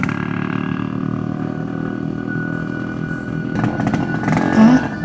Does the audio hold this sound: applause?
no